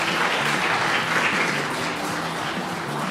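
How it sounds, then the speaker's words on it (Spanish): Applause from a small group, steady and fairly loud for about three seconds, with no other sounds over it, during a casual Spanish-language podcast episode. "démosle un aplauso a don Jorge."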